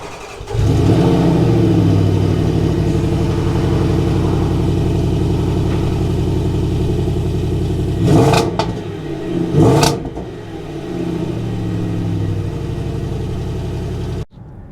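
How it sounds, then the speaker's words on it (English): A Range Rover SVAutobiography Dynamic P565's supercharged 5-litre V8 drones steadily under acceleration, loud and close, with two brief bursts of heavier noise midway before cutting off abruptly. "it is the 5-litre V8 supercharged engine in this"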